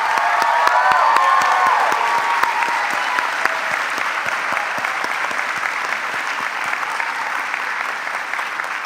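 An audience at a white coat ceremony for incoming osteopathic medical students gives a sustained, dense round of applause, loud and steady from start to finish with a few faint cheers mixed in.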